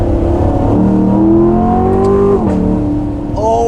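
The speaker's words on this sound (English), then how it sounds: "Something that definitely adds to the experience of this car is going to be the exhaust." Loud C7 Corvette V8 exhaust rising and falling through revs on a mountain road, heard from inside the car. Engine pitch climbs steadily, drops sharply at a shift, then climbs again, close and dominant throughout.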